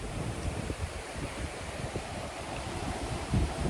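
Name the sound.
wind blowing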